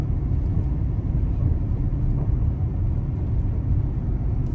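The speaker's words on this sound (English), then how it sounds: "That's a nice semi right there rolling in. Nice Peterbilt." A Peterbilt semi truck rolls by on a small-town street in Jackson, Minnesota, a steady low heavy rumble of engine and tires holding at a close, even level throughout with no voices.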